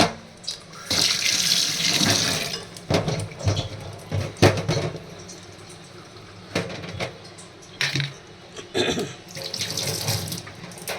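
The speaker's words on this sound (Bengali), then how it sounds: "এগুলোকে ভালো করে ধুয়ে নিই।" Whole garlic cloves rinsed under a running kitchen tap, water splashing steadily into a sink with short bursts and pauses as the cloves are turned by hand, fairly close and loud.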